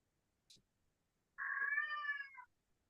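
A cat yowls loudly around a small fuzzy toy held in its mouth, one drawn-out muffled cry after a brief soft sound, close by in a quiet room.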